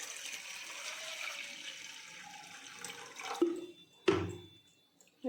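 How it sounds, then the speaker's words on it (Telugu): Water is poured into lentils for Andhra-style pappucharu dal soup, a steady close-up pour lasting about three seconds, followed by two sharp clunks of the vessel. "వాటర్ పోసుకుంటున్నాం అన్నమాట"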